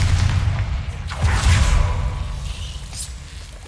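Confringo explosive spell blast in the Hogwarts Legacy video game: a deep booming burst with a whooshing swell, loud and close, tailing off over a few seconds amid other game sounds.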